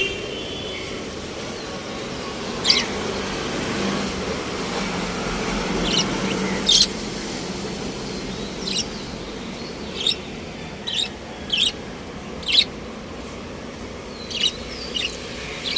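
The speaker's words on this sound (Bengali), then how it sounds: "ইদানিং পাখিগুলোর সাউন্ড আমার কানে লাগলে আমার কাছে মনে হয় একটা শান্তি শান্তি লাগে" Birds outside a balcony after rain give short, faint, high chirps scattered over a steady ambient hum, spaced irregularly and sparse, with no talk.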